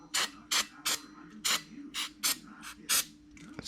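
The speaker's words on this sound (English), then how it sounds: "I'm gonna just give the drum a little spray." Brake parts cleaner sprays onto a mini bike's brake drum in about nine short, sharp hissing bursts, close up and evenly paced, with quiet mechanical clicks between them.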